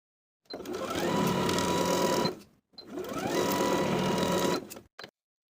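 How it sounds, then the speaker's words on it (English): A sewing machine stitches a waistband with a 3/8 inch seam, running steadily in two long bursts close by, then a brief final whir. "Sew the waistband in place all the way around with a 3/8 inch seam allowance."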